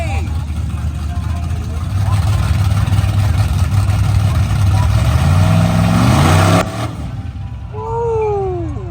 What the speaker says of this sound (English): Alright, they're gonna send them down the track now.